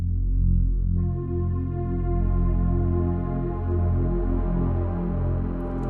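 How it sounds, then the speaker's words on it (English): Softly detuned Omnisphere liquid swell synth preset forms an intro made only of effects; a dense, sustained pad swells in around the first second and keeps shimmering with slow, wavering movement, loud and alone. "So what's really happening here is we have this liquid swell preset from Omnisphere"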